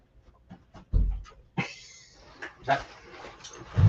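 A dog plays loudly with a puppy indoors, giving a handful of short, sharp vocal bursts with yips and whimpering between them, close by and loud.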